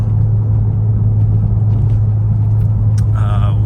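A 2005 Porsche 911 Turbo S Cabriolet 996 drives with a steady, loud low engine drone and road rumble throughout, rising slightly near the end, with someone talking over it.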